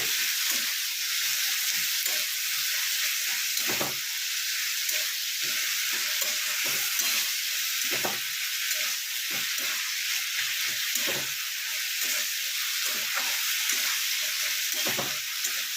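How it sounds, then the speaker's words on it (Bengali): Fish tel chochori being fried down in a pan with a little water, a loud continuous hissing sizzle with steady bubbling and repeated scraping stirs throughout; no talking. "দেখুন তেল চচ্চড়ি কষাচ্ছি আমি"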